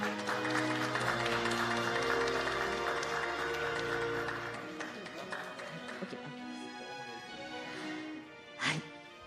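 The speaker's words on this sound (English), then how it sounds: "Let's congratulate Mr. Kipchoge with a round of applause." Audience applause at the Tokyo Marathon 2021 awards ceremony, sustained clapping beneath a tonal musical bed that thins out partway through, ending with a brief louder burst near the close.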